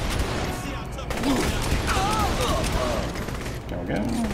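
Rapid gunfire from hip shooting in Saints Row: The Third, bursts of shots running nearly the whole time with mechanical weapon clatter, loud and close under game noise.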